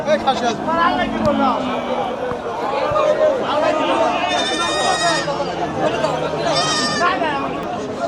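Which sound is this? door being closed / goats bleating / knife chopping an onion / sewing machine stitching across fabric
goats bleating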